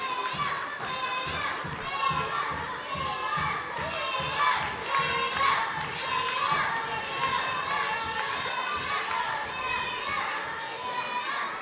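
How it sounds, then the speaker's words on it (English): A lively crowd at a pro wrestling show shouts and cheers continuously, including young voices, loud and close throughout, with a commentator talking over the noise. "Crowd really getting behind Leon Cage here."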